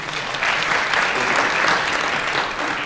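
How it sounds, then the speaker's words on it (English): A dense, sustained round of applause from an audience at a spiritual wellness festival in New York City, steady and full for nearly three seconds. "give the appreciation, round of applause once again"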